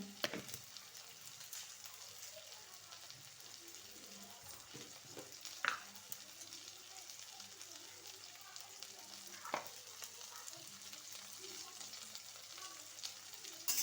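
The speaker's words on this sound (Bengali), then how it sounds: "এবারে নুন হলুদ দিয়ে আলুটা আমি একটু ভালো করে ভেজে নেব।" Potatoes frying with salt and turmeric for a Bengali long bean and potato curry give a steady, soft sizzle, with a few brief louder scrapes of stirring.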